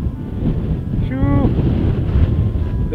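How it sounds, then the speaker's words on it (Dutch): Strong wind roars and buffets the microphone outdoors at Addo wildlife park. The loud, continuous gusting fills all three seconds, and a brief rising voice-like tone cuts through just after the first second. "dis die wind."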